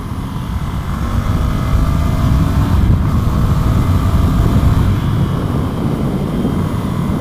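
A Ducati Scrambler motorcycle engine drones steadily while riding, a loud continuous rumble mixed with wind rush, rising slightly after the first second and holding with little variation.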